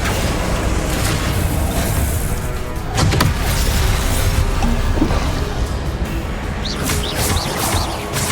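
Spell casting in Hogwarts Legacy: dense, continuous game effects with a few sharper bursts and crackles over a steady rumbling backdrop, with no one talking.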